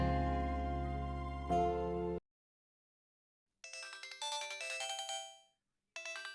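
A mobile phone ringtone plays a melodic electronic tune in bursts, with a loud sustained music passage cutting off into silence before the bright chiming ring pattern starts and repeats.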